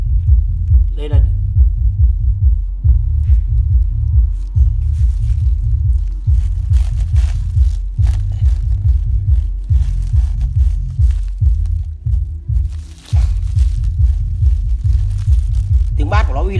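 A Mirage FRX-S10 Canadian subwoofer with a 25 cm driver pounds out repeated deep bass hits at higher volume, loud and close, in a steady driving rhythm with faint upper-range music above.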